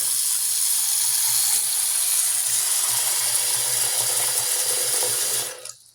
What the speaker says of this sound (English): Let's fill it up with water.